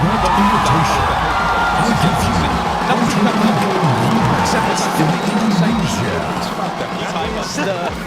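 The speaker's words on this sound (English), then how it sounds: "We saw the crowd going wild earlier." Home-team stadium crowd at a sports match roaring continuously, a dense loud wall of cheering and whoops with a commentator's voice running over it throughout.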